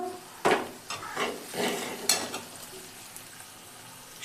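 Onions being fried in a pan for a cabbage sabzi, a soft sizzle broken by several sharp scraping stir strokes of a spoon against the pan, fairly close and with no speech.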